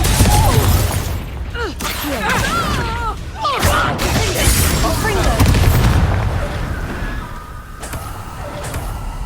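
The Confringo fire spell detonates in the Hogwarts Legacy video game, a series of booming blasts amid game music and effects, with a voice speaking over the action.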